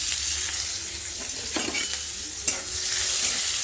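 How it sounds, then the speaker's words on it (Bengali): Onions sizzle and fry in hot oil with black cumin seeds in a pan for okra, a close, steady hiss with a few crackles and stirring knocks, no talking. "তেলে একটু পেঁয়াজ দিয়ে দেবো"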